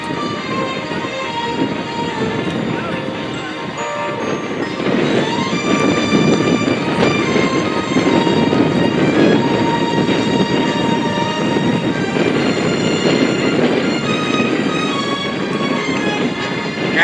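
An MV-22 Osprey tiltrotor at the 2024 MCAS Cherry Point air show tilts into forward flight. Its loud, steady rotor and engine drone carries strong humming tones and grows louder partway through.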